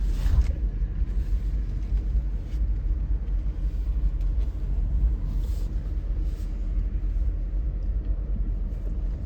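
A Toyota Prius engine, whose hybrid battery was being charged from a 12-volt car battery, runs with a steady low rumble heard from close by, with no talking.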